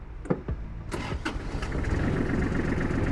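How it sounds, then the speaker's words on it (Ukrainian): A small Kubota mini tractor diesel engine with glow plugs cranks with a few sharp clatters, then catches and settles into a steady, close idle that grows slightly louder. "Давайте заведемо тракторець, послухаємо двигун і прокатаємось на ньому."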